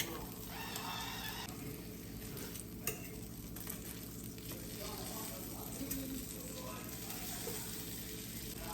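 Pork chops frying in olive oil in a cast iron skillet, a steady dense sizzle with occasional light scraping, continuous and fairly close.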